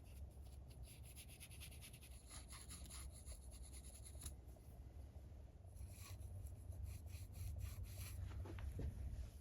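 Weathering powder being rubbed onto model railway points, a quiet, close scratchy rubbing in repeated short strokes over a soft background hiss.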